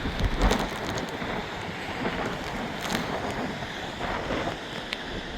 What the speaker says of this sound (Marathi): पंख असे आणि मधून बरोबर पडणारा हा धबधबा